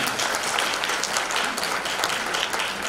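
An audience at a gathering of elders and former diplomats applauds to welcome a speaker to the podium, a short, loud wash of dense clapping that continues evenly without voices.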